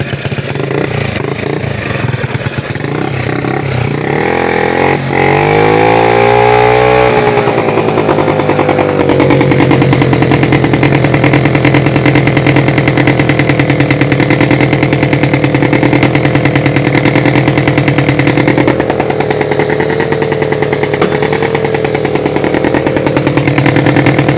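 A loud motorcycle with a rapid-backfire exhaust pipe revs up hard, then settles into a harsh, buzzing, steady drone that fills the whole stretch at close range.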